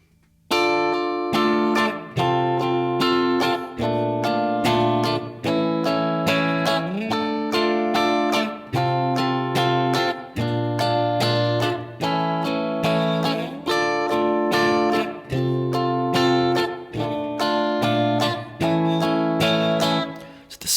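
A guitar strums a steady funk-soul 8th-note rhythm with crisp, evenly spaced chord strokes and occasional chord changes, played alone and close.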